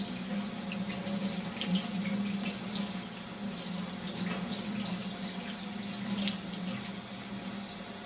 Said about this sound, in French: Rincer le poisson soigneusement.